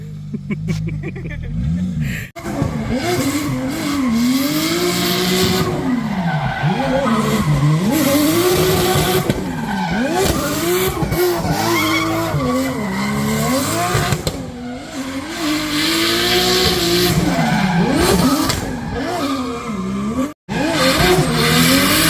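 Toyota Supra used as a drift practice car, engine revving hard with sustained tire squeal and skidding throughout, loud and close, with people talking over it.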